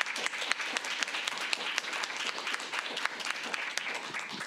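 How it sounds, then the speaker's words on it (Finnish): Audience applause for the speakers closing a Finnish event about visual artists in salaried employment, with steady dense clapping from a sizeable crowd at moderate level. "Otetaan loppuun yhteisesti kaikille puhujille aplodit."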